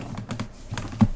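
Brief, close-up keystrokes on a computer keyboard while a file path is entered, a handful of light taps with a slightly louder clack near the end.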